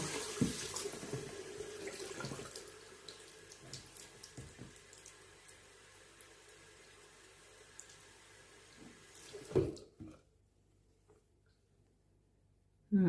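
Tap water runs into a homemade vinegar and dishwashing-liquid cleaner mix, a faint steady trickle with some clinks that grows louder, then cuts off abruptly, leaving near silence.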